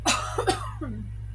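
A single person coughs sharply a couple of times, close up, followed by a brief voiced throat sound.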